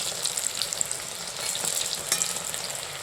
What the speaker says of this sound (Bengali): একদিকটা ভাজা হয়ে গেছে, নেক্সট দিকটা ভালো করে ভেজে নিচ্ছি